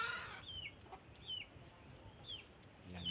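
Chickens on a farm cluck softly in short, scattered calls at a moderate distance over a quiet outdoor background, with no talking.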